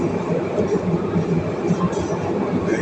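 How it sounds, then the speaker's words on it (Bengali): Underground metro train running through a tunnel, a steady low roar and rumble heard from inside the car, continuous and moderately loud with no clear speech. "মাটির নিচে দিয়ে ট্রেন যেতেছে"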